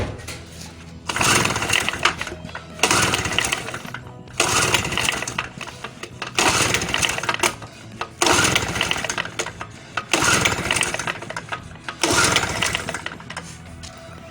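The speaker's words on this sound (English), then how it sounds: "Holding the handle of the starter and pulling it with force from the beginning isn't the right way to start your 2-stroke generator." The recoil starter of a 2-stroke Tiger generator is yanked seven times in a row, each forceful pull a harsh whirring rasp lasting about a second, separated by short pauses, loud and close.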